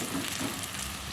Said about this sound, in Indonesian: Aku tumis hingga bumbunya itu matang dan beraroma.